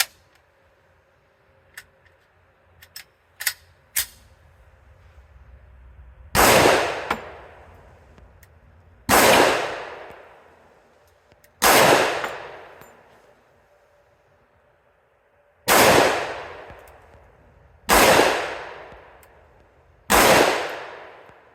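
A Smith & Wesson M&P 10mm pistol fired outdoors, six loud, sharp shots spaced a few seconds apart, each with a long ringing decay, preceded by light clicks and handling taps.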